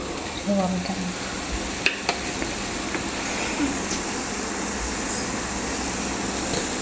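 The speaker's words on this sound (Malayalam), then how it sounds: "ഇതൊന്ന് ഇളക്കി കൊടുക്കാം. ഇളക്കി കൊടുത്തിട്ടുണ്ട്." Spoon stirring chilli powder into a simmering coconut milk fish curry: a soft, steady bubbling sizzle with a few faint scraping clicks. Close and fairly quiet, alone without talk.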